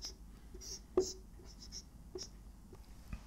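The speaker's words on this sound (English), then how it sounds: "let me write it very clearly" Chalk or marker writing on a board during a math lecture, with faint, brief scratching strokes and a light tap, quiet against a room hum.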